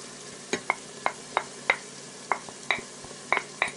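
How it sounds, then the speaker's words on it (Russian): Carrots and chicken fry in a multicooker bowl for pilaf, a soft background sizzle punctuated by about ten sharp stirring scrapes and clicks at an uneven pace, with no talk. "Сейчас нам надо очень быстро все-все-все обжарить."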